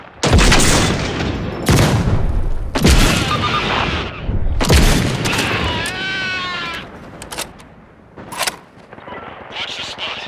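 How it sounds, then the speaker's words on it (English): Flashbang grenades and heavy gunfire burst repeatedly in the tactical shooter Caliber during a PvPvE match. Sharp, loud, booming blasts recur every second or two, mixed with shouted team callouts and a ringing, warbling whine. "Flashbang!"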